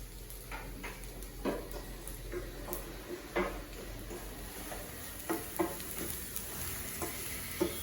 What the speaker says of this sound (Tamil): இப்போ இதில் இந்த ரவையை வந்து கொட்டி வறுத்துடலாம்